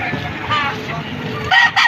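A rooster at a poultry sale in Padre Garcia, Batangas clucks and gives short crowing calls, loud and close, against market chatter and background voices.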